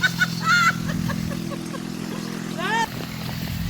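A Honda-powered turbo tractor engine runs at full throttle in a steady low drone, with people talking over it throughout.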